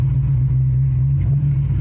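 A Chevy S10 pickup's built, cammed 4.3L Vortec V6 rumbling loud and close with a steady low lope, tires spinning, no voices.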